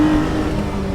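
Ferrari-sourced engine in a Lancia Stratos holding a loud, steady high-rpm drone close by, with a sustained buzzing tone and no speech.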